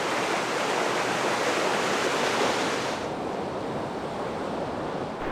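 A river along the Hayduke Trail rushing steadily in a dense, close roar of churning water, continuous and loud with no voices, the hiss dulling slightly partway through.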